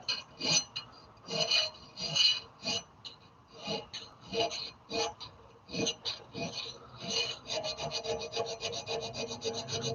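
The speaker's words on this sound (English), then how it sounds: "Now I'm just polishing and putting almost no pressure on this" A file works over a forged steel hammer in slow, rhythmic rasping strokes up close, then turns to faster, lighter polishing strokes toward the end.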